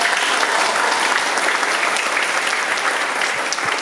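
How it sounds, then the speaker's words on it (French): Steady, dense applause from an audience at a youth debate event, applauding two teams; it fills the whole stretch at an even, fairly loud level with no talking over it. "Veuillez applaudir alors les deux équipes pour les belles prestations qu'ils ont avancées."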